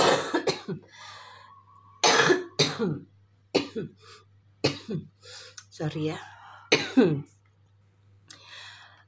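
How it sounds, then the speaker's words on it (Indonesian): Several harsh coughs in short bursts, close and loud, spaced across the clip, with a brief spoken apology between them. "Masih batuk sedikit saja."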